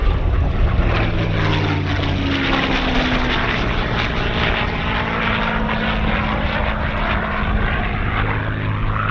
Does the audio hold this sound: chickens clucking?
no